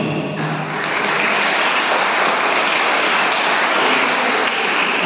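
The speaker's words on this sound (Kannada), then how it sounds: "ಅವರಿಗೆ ನಾವು ಚಪ್ಪಾಳೆ" A seated crowd at a culture camp held in a monastery gives the parents a dense round of applause, a steady wash of many hands clapping loudly and evenly for the whole stretch, with no speech over it.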